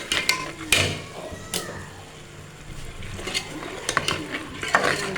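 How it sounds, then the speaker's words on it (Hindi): Vegetables for dhaba-style aloo phaliyan frying and being stirred in a pan, with a soft steady sizzle under repeated scrapes and clinks of a spoon against the metal, no talking. "इसमें अच्छी तरह से फ्राई कर लेते हैं"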